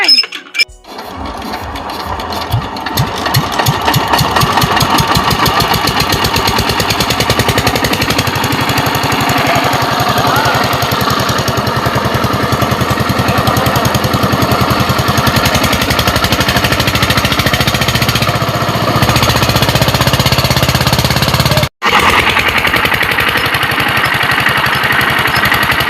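An engine-driven water pump runs in an agricultural field with a loud, steady, rapid rattling chug that continues throughout, apart from a brief dropout near the end.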